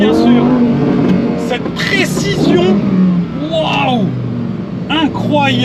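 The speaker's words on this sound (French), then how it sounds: "Légère réaccélération, sortie de virage" A Lamborghini Huracan STO engine revs and re-accelerates out of a corner, its rising harmonic sweeps pulling up repeatedly over steady road and cabin noise, with someone talking throughout.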